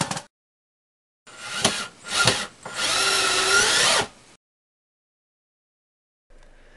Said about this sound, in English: Screw in the housing on all sides for a good seal against the wood framing.